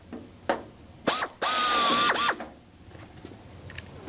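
Pneumatic tool bursts while clecoing the pre-punched aluminum skin of a Vans RV6 empennage: short sharp mechanical clicks, then a loud, close whirring burst of about a second, followed by quieter ratcheting ticks.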